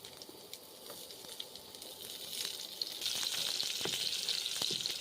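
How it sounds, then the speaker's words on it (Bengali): Onions frying in oil in a pan for a Bengali mustard-poppy rohu fish curry, a steady crackling sizzle that grows louder and denser halfway through, with a few faint stirring clicks. "পেঁয়াজগুলো আমি লাল লাল করে ভেজে আমি কালার হয়ে গেছে পেঁয়াজগুলো ভাজা"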